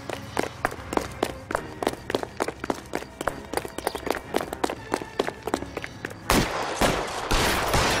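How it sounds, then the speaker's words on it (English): Gunfire in the LA Noire video game: a rapid burst of sharp, evenly spaced shots running for several seconds, then giving way to a dense roar of noise, loud and close. "You better stop shooting!"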